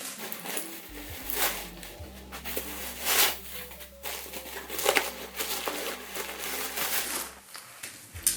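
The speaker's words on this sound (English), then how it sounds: "So let's take all the plastic off." Plastic wrapping is peeled and crinkled off a Coach denim handbag, with irregular rustles, crackles and handling bumps, fairly quiet and close, with no speech.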